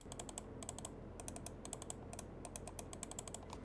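Pulsar gaming mouse switches clicking in quick, crisp, tactile bursts, a rapid near series of sharp clicks repeating steadily over a low background hum.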